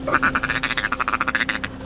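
A duck call mimics a mallard's feeding chatter, a rapid, close run of about twenty short, clipped quacking pulses, loud and unbroken.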